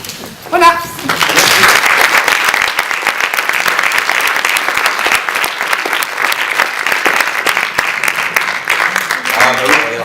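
An audience at a book fair bursts into loud, sustained applause after a brief spoken line, with dense clapping that holds steady for several seconds.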